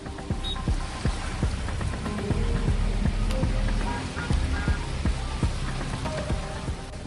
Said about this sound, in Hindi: तेज हवा के साथ मूसलाधार बारिश ने चेन्नई शहर को जैसे बंधक बना लिया।